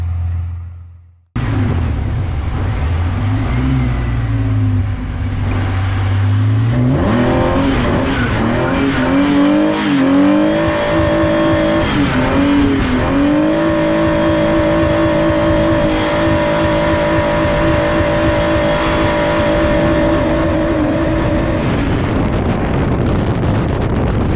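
A drift boat engine on a test run after repeated overheating, first idling low and rough, then revving up into a loud, sustained high-RPM roar with wind buffeting. No one speaks.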